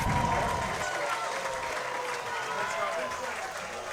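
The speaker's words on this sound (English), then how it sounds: "A loud crowd here at Athletic Park cheering the Chucks on" Crowd noise rises at Athletic Park during a minor-league baseball game, a broad roar of applause and cheering from the stands with a commentator talking over it.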